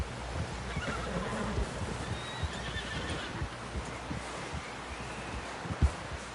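Horse sounds from a video game play across a windy outdoor scene, with hoof clip-clop, rustling and a whinny under a steady background rumble, fairly close and moderately loud.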